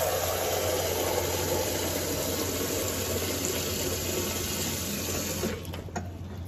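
Water running steadily from a tap into a cup for ritual hand washing at a Passover Seder, a continuous close rush that eases off near the end.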